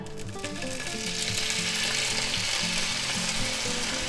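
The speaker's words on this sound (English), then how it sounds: "Let's go ahead and add our green and red peppers and onions. Put them in there." Green and red peppers with onions sizzle and crackle in a hot oiled pan, a steady loud fry with no talking.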